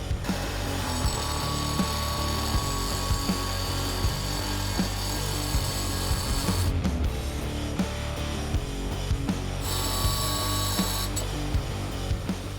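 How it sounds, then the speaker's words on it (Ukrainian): Continuous harsh whine and grinding of a cordless angle grinder with a Dnipro diamond disc cutting porcelain tile, close and loud, with a brief change in tone partway through. "за допомогою алмазного диску Дніпро Емультра ми відріжемо шматок керамограніту"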